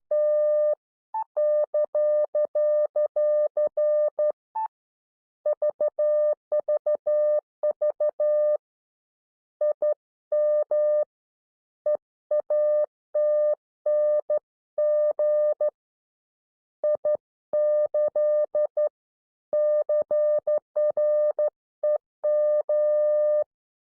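Morse code sent by hand at 12 words per minute: a single steady tone keyed on and off in irregular dots and dashes, with short gaps between characters and words, loud and alone throughout.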